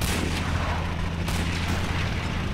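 Dense, continuous booming and rumbling of game explosions and gunfire blending into a loud, unbroken wall of sound.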